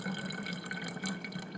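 Kombucha poured from a jug into a swing top glass bottle, a quiet continuous trickle of liquid with faint dripping and splashing, steady for about a second and a half with no talk.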